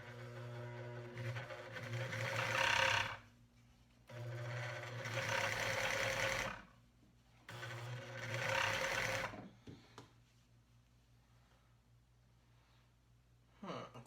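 A Consew 75T portable tabletop blindstitch sewing machine runs in three fairly loud bursts of steady mechanical whirring and clatter, separated by short pauses, then falls quiet with faint handling noises.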